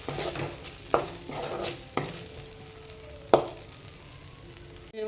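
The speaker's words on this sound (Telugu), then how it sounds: "బఠానీలు యాడ్ చేసి కలుపుకోండి." Green peas being stirred into a frying paneer curry in a pan: a steady sizzle with a few sharp spoon clanks against the pan, up close and without talk.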